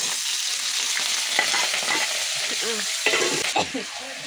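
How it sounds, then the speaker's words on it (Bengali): Onions fry in a pan for a chicken stomach dish, a close, steady sizzle broken by scraping and clattering strokes of a spoon stirring through them, with no talk. "পেঁয়াজগুলো দিয়ে দিই"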